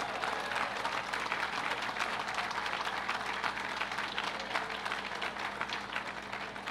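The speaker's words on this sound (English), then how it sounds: "Let's give him a round of applause." Guests at a Long Island wine and craft beverage event hosted by the governor give an honoree a round of applause, a thick, continuous roar of many hands clapping that stays loud and level from start to finish.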